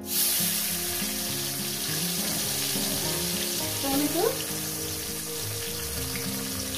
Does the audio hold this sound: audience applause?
no